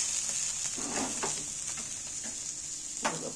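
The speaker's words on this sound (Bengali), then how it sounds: "2 পেটি ভালোভাবে ভাজা হয়ে যাবে" Flipped breakfast pieces fry in a pan with a steady close sizzle and bright hiss, broken by a few soft scraping stirs, and no voices over it.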